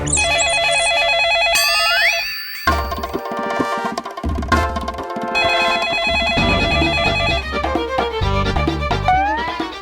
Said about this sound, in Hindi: मैं फोन नहीं उठाऊंगा